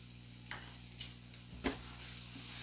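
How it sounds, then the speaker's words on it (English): Baked beans ingredients with brown sugar and salt being stirred in a pot, a few soft scraping knocks over a faint, steady background hum. "I just kind of stir as I go here."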